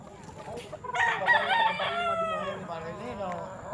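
A rooster crows once, loud and close, its drawn-out call rising and trailing off, with low background noise around it.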